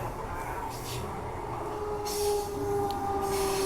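A train runs along the Midland line, a steady rumbling roll with a faint metallic squeal rising over it, heard from nearby.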